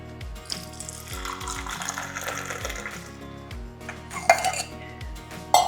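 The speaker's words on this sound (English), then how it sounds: "I'm gonna pour it in my favorite cup." Chai made with cardamom and ginger being poured into a favourite cup, with clinks of the cup and some kitchen clatter and faint liquid splashing, fairly close, no talking.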